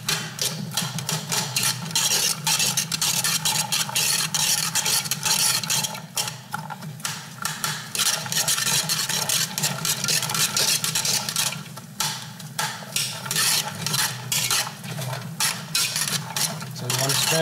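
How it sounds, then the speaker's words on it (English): Vegetables sauté in a pan beside cooking salmon, with continuous sizzling and the clatter and scrape of stirring utensils against the pan, close and busy throughout. "we're going to saute this vegetable over here"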